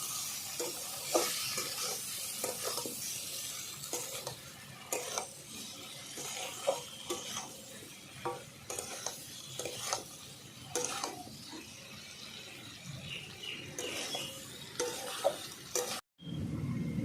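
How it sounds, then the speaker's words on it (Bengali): Spices and Kashmiri chili powder sautéed together in a pan: a soft sizzle with repeated scraping and stirring strokes at an uneven rhythm, close by and without talk. "ভালো করে একই সঙ্গে সব কষিয়ে নেব এক থেকে দেড় মিনিট"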